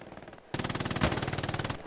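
Rapid bursts of automatic gunfire in the video game Hell Let Loose, a fast regular rattle of shots lasting over a second, with a single louder blast in the middle.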